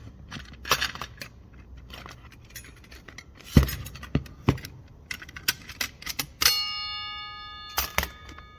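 Clutch plates from a Mazda Skyactiv automatic transmission are being pulled out by hand, giving sparse light metallic clicks and clinks, with a brief ringing jangle of plates near the end, all close and fairly quiet.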